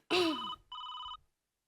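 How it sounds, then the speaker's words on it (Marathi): A telephone rings in a comedy sketch, two short bright electronic rings separated by a brief gap, close and clear, with no voices over it. "नलू मावशीचा फोन आहे."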